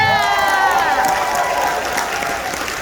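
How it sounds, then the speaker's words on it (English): A convention crowd at the Youmacon 2021 closing ceremony applauds and cheers, a steady close wash of clapping with a high drawn-out whoop or whistle riding over it for the full stretch. "give them one more round of applause"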